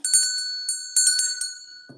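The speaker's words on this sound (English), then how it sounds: "We're gonna ring the bell." A hand bell rings out sharply and close, struck in several quick bursts that each leave a bright sustained tone hanging between strikes.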